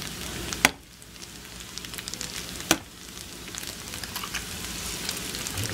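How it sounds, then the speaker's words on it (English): Eggs frying in a pan, a steady close sizzle and crackle broken by two sharp clicks, with no talking. "I'm going to cook me some eggs"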